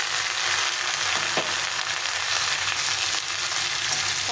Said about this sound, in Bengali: আলুটা দিয়ে একটু ভেজে নেবো, হালকা একটু ভেজে নেবো